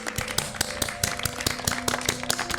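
A person watching a TV series episode claps their hands in a quick, uneven run of sharp, close claps. Faint background sound from the show plays beneath.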